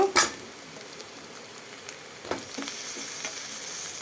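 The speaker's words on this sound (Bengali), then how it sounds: "পেঁয়াজ ভাজি হয়ে গেছে এখন এর মধ্যে আলু ছেড়ে দিব" Potatoes go into hot oil with chopped onion and green chili, giving a close, steady sizzling hiss broken by a few sharp spatters and clicks, with the frying growing slightly louder toward the end.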